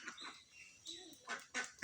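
Ducks give a few short nasal quacks in quick succession, close and fairly faint, over quiet background.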